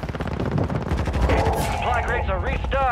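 Automatic weapon fire in Call of Duty Warzone rattles in quick close bursts, with a voice speaking over the shooting and rising sweeping game sounds near the end.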